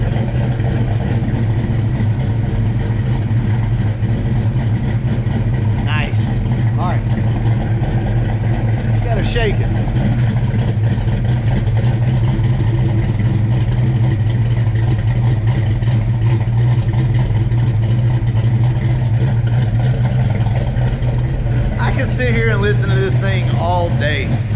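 Car exhaust rumbling at idle with a steady deep drone, broken by a few sharp revs and a louder burst near the end, heard close with people talking over it.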